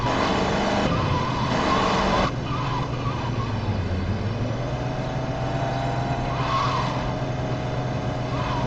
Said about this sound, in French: Mon Dieu, Tony, tu conduis comme une garce.